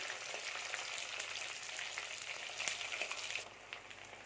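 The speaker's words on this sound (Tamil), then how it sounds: "இப்போ ஒரு இரநூறு கிராம் சின்ன வெங்காயம் முழுசு முழுசாக ஒரு உரிச்சு வச்சுருக்கேன் இது அப்படியே போட்டுக்கலாம் இது போட்டு கொஞ்ச நேரம் வதக்கிடலாம்" Whole small shallots sautéing in hot oil for Thanjavur-style fish kuzhambu, a dense close sizzle with light crackles and a stir or two, steady throughout and quieting slightly near the end, no voices.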